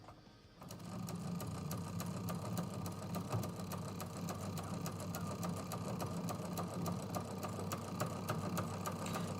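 A sewing machine runs steadily, stitching straight in the ditch on a square quilt pattern, with a loud continuous mechanical whir and a rapid needle rhythm that starts after a brief quiet moment.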